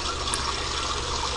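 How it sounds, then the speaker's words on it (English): Water circulates steadily through a small home-built closed-loop aquaponics system with a pumped grow bed and reservoir, giving an even, continuous trickling flow with no talk. "Water is pumped continuously through this closed loop system."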